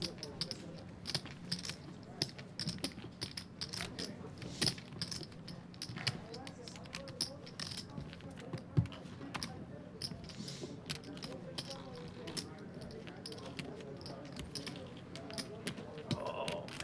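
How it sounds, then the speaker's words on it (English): Poker chips are shuffled at a live poker table, giving rapid soft clicking and clacking that runs on and off beneath a voice talking throughout. "He's pretty much just shuffling chips"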